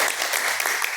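A congregation at an IPDA church service claps in praise, a brief burst of dense hand clapping from many people in a reverberant hall.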